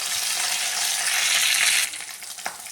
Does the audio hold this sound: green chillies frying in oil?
yes